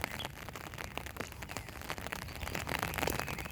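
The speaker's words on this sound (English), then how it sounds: "they like the sound of the rain hitting this umbrella" Steady rain patters on an umbrella overhead, a dense, continuous tapping of drops that swells slightly louder toward the end.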